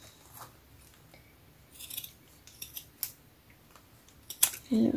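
Scissors cutting recycled clementine jute netting: a series of soft irregular snips and rustles at close range, with a louder cut and handling noise near the end.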